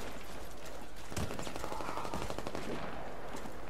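Sig Sauer 226 pistol firing in a neighborhood, a few sharp gunshot cracks standing out from steady background noise, with the loudest report near the middle and quieter pops after it.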